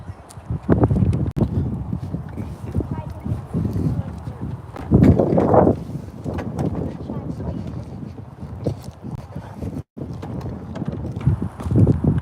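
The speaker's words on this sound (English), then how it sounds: "there's the horses over there" Horses on a property, with hooves clip-clopping at a distance beneath near, steady talk from several people and gusts of wind across the microphone.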